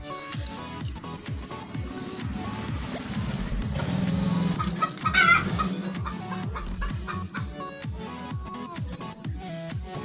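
A hen clucks repeatedly after laying an egg, close and fairly loud, in steady choppy bursts, with a brief squawk partway through.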